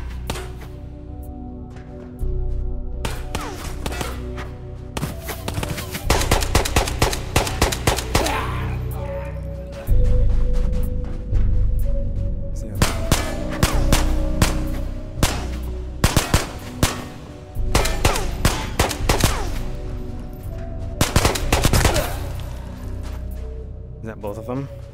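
Repeated bursts of gunfire from the hardcore VR shooter Ghosts of Tabor, fired toward a player behind a grate, crack out in rapid volleys and single shots, loud and close, across the whole stretch with brief lulls between.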